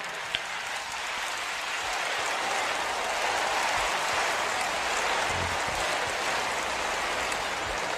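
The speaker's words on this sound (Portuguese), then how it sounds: "Dê uma salva de palmas para esses professores, pois eles merecem." Congregation applause for Christian teachers during a Jimmy Swaggart sermon, a dense, steady wash of clapping that swells slightly and holds for several seconds without voices.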